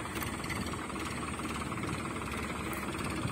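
A Farmtrac 60 tractor in 3rd low gear backs a trolley loaded with dung up a ramp, its engine a steady, loud, low rumbling drone that holds constant throughout with no speech.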